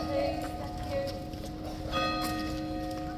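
Police horses clip-clop through an archway, their hoof strikes steady and fairly close beneath a bell ringing and a bustling crowd.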